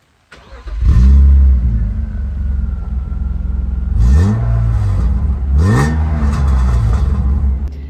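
A BMW Z3 roadster engine cranks and starts, settling into a loud, close rumbling idle before two sharp revs rise and fall near the end, with no talking over it.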